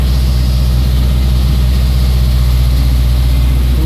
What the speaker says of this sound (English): which is why it's idling really high